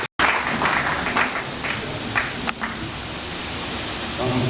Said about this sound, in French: Sous vos acclamations, s'il vous plaît